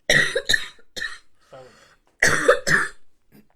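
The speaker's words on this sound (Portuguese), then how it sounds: "vou tossir." A person coughs several times in harsh bursts, pauses, then coughs twice more loudly, close up.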